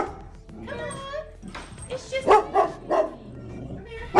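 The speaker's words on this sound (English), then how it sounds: "That's a very fearful dog." A fearful dog whimpers with high wavering whines, then lets out a series of sharp yips and barks rising in loudness, close by, with a person talking over parts of it.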